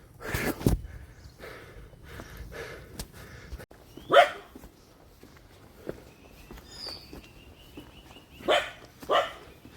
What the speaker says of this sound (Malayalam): ധാരാളം പട്ടികളുണ്ട് കേട്ടോ